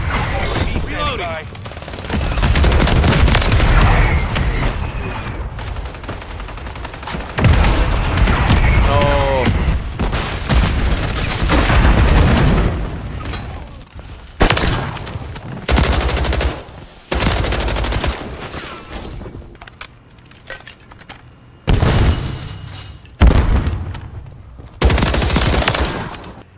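Intense gunfire in a Call of Duty Modern Warfare 3 multiplayer match: loud, close bursts of automatic fire alternate with single booming shots and brief gaps, while voices shout over the battle.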